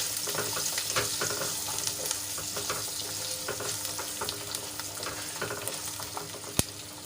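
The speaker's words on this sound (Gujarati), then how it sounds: "લસણ આપણે એમાં એડ કરી લઈશું અને તેલમાં સરસ રીતે મિક્સ કરી લઈશું અને એને બે થી ત્રણ મિનિટ સુધી તેલમાં સંતળાવા દઈશું" Garlic sautéing in oil for a Kathiyawadi garlic curry, a steady close crackle and sizzle with occasional stirring taps and one sharp knock near the end, with no talking.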